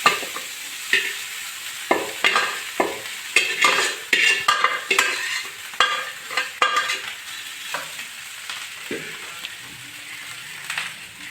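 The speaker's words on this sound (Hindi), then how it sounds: "गैस सिम करके मैंने अच्छे से मिक्स कर लेना सारा।" Leftover rice being mixed with salt in a pan over a low gas flame, with repeated scraping spoon strokes and light sizzling, close and clear with no talk.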